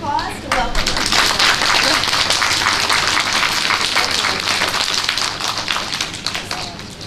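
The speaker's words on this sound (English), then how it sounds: "give her a big round of applause to welcome her" A studio audience on a morning TV show gives a big round of applause to welcome a guest, loud and sustained with sharp individual claps throughout, following a brief voice at the start.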